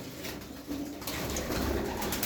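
White Bango pigeons coo softly in a loft, a low murmuring call that grows a little fuller partway through, with no talk over it.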